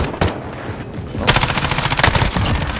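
Continuous automatic rifle fire from a Ram 7 in a Modern Warfare Search and Destroy match, with rapid bursts growing denser and louder partway through, close and loud with no talking.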